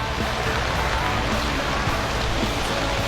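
Rain pours down steadily at night, a dense, even hiss of falling water filling the scene with no gaps.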